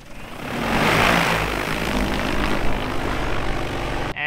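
Agricultural spray drone flying during a field test, a loud continuous propeller buzz and whine that swells early then holds steady, close by, with no voices and an abrupt cut at the end.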